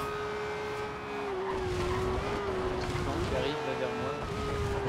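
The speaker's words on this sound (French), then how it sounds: "il drift en Lamborghini ou quoi?" A Lamborghini drifts in Forza Horizon 2, its engine holding a steady whining drone with shifting pitch while tires hiss and squeal, continuous and fairly loud, with a voice talking over it.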